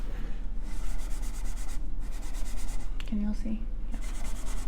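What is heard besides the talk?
rubbing finish into wooden drawer with finishing pad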